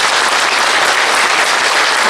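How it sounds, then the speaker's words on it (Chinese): Sustained, dense audience applause at a Buddhist teaching gathering, loud and steady throughout with no voices over it. "我们再次以最感恩、最热烈的掌声，感谢圣尊的宝贵法语开示"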